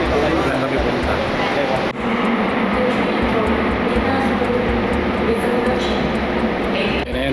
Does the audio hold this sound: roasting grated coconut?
no